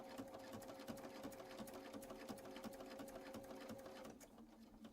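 A sewing machine stitches two quilt sashing strips together in one pass, its steady motor whir and rapid needle clatter running continuously and close for about four seconds before easing off.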